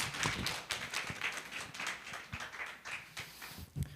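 Scattered clapping from a church youth-group congregation welcoming a pastor, quiet and uneven, with sharp individual claps over a soft room background.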